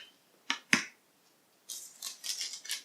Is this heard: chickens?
no